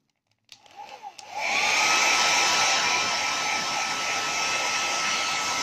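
A hair dryer switches on after a few clicks and blows steadily, loud and close, drying out a printer ink cartridge cleaned with alcohol.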